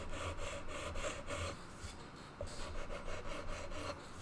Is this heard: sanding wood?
yes